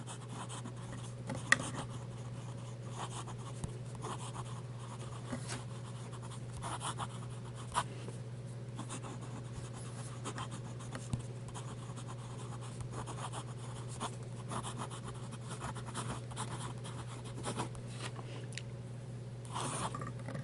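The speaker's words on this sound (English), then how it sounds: "Let's do some fast writing." Fast handwriting with a Hero 301 fountain pen, its nib scratching steadily across paper in quick continuous strokes with occasional sharper ticks, close and fairly faint over a low steady hum.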